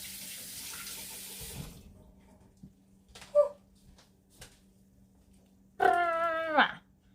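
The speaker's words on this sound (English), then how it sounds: "let me wash my hand real quick. Well, rinse it off basically is what I want to do." A hand is rinsed under a running kitchen tap for a second or two, a close steady splash that then stops. A few soft knocks follow, and a dog whimpers briefly near the end.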